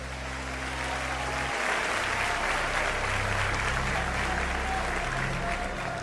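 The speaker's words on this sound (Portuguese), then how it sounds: "os que podem, tomem o seu assento, aplaudindo a Jesus porque Ele é bom" A church congregation applauding, a dense continuous wash of many hands clapping in a large room, steady and fairly loud, with a low hum beneath.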